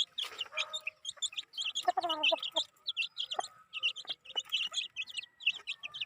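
Chickens and chicks on a rural farm in the province, with a rooster among them: repeated high chirps from chicks run throughout, joined midway by a louder clucking call, all close and clear with no talk.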